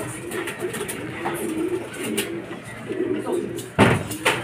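Racing pigeons arriving at a loft after a race from Tarlac and Talavera, with soft cooing and wing flutters under steady nearby talk, then a sharp slam-like clatter near the end.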